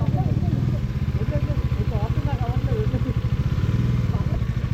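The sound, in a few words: Aprilia RSV4 motorcycle being ridden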